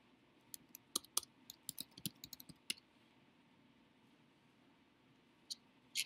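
Faint, quick keystrokes on a computer keyboard during a lecture, a rapid cluster of light clicks, then a pause and a few final taps.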